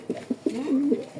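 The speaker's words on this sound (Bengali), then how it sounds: "ডিম বাচ্চা করানোর জন্য নটটা ডাকতেছে" A male racing pigeon coos close by to court his mate for breeding, giving a few soft rhythmic pulses that run into a longer rolling coo, with no talking over it.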